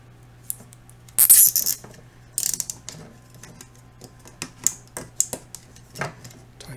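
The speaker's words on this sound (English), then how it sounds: "Tighten it up, and I'm going to cut them back" A plastic zip tie is ratcheted tight around a homemade tape-measure and PVC antenna for the 440 MHz and 70 cm bands, giving quick bursts of close, clicking ratchet pulls followed by scattered single ticks over a low steady hum.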